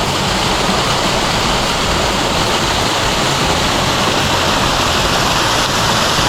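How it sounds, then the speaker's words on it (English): A small stream pours down a rocky drop as a little waterfall on a wilderness trail, a loud, steady, close rushing hiss of falling water that fills the whole stretch without a break. "There's a little stream pouring down through here, making a nice little waterfall right here."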